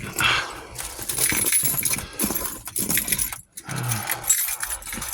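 Keys jangle and rattle in a garage workspace beside a Honda D16Z6 engine build of over 420 hp, awaiting its first startup; a busy metallic clatter runs in bursts with a short pause midway.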